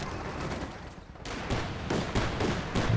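A Dishka heavy machine gun fires in Company of Heroes 2 during a 2v2 battle: repeated rapid bursts of gunfire with a brief lull, then more bursts, fairly loud against battlefield noise.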